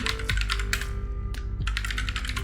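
A new password is typed on a computer keyboard: a quick, close run of crisp key clicks in uneven bursts with brief pauses, and no voices.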